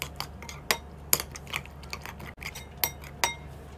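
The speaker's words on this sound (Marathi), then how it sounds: "अंडा आपलं व्यवस्थित फेटून झालं आहे" Beaten egg being whisked in a bowl for a dhaba-style papad omelette, giving sharp, irregular metallic clinks and taps of utensil against the bowl, close and fairly loud over a steady low background hum.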